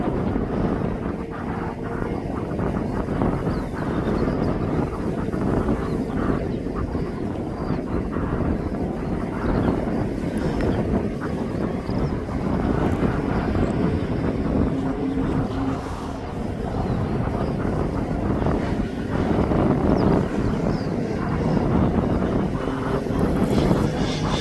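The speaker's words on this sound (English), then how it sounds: "that Spitfire is now landed. There he is. He's just running up the taxiway" A Spitfire taxiing up an airport taxiway after landing, its engine a steady rumbling drone heard from a distance under gusting wind noise on the microphone.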